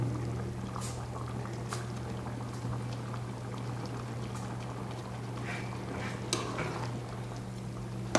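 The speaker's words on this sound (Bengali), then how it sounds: "5 মিনিট জাল দেন, জল দিয়ে উলাইলাম।" A cooking pot of bottle gourd with fish head simmers and bubbles steadily, a constant soft burbling hiss with a low hum beneath and occasional small clinks, close and quiet.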